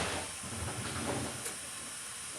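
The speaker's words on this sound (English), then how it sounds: "And then we're going to open the bleeder up and let the air out." Air hissing out of an opened rear brake bleeder valve on a single-spring rear brake, a steady broad close hiss lasting a couple of seconds with no talking.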